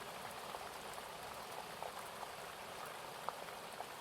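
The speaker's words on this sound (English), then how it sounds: "Sound of the rain increasing on the tent," Rain patters steadily on a tent, a dense, even hiss of drops with occasional brighter taps, close and continuous with no voices.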